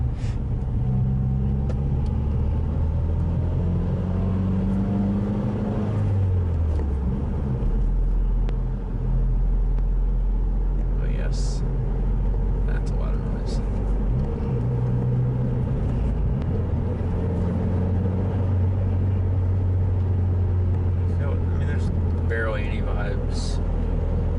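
A Mazdaspeed3 accelerating with the engine revving, heard from inside the car: a loud, steady low rumble of engine and road noise that rises and falls throughout, with a brief thin sound near the end.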